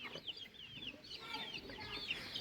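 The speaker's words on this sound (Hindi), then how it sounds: "ये मुर्गे का काम है" Chickens cluck softly and repeatedly in a short stretch of busy, faint household ambience, with a few scattered bird-like calls running through the background.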